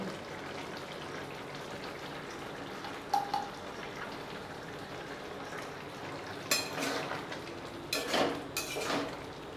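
Pumpkin curry cooked with ghee is stirred in a pan. Faint sizzling runs underneath, broken by a few scraping clinks of a spoon against the metal, quiet and close.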